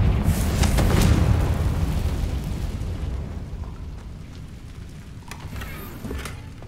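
A Confringo blasting spell goes off in Hogwarts Legacy, a deep, booming explosion that rumbles loudly at first and then slowly decays, with faint crackling debris trailing after it.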